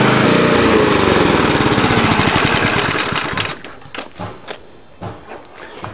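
An older Briggs and Stratton lawn mower engine runs with a loud, rapid, close putter for about three seconds, then slows and sputters into uneven, separate firing pops as it dies down.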